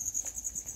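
Thai crickets emerging to feed give a brief run of rapid, high-pitched pulsed chirps, even and fairly faint, alone without talk.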